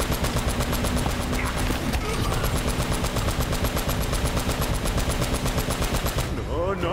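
Rapid, sustained machine gun fire in the video game Uncharted: Drake's Fortune. It rattles loudly and continuously for several seconds over a low background rumble, then cuts off near the end.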